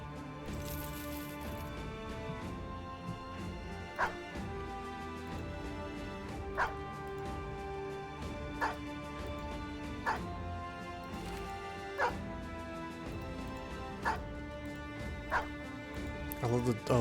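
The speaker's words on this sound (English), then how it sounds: "I love the bark sound effect." Short dog barks from the Battle Brothers video game pop out at regular intervals over game music, each bark shifting slightly in pitch, with a voice talking underneath.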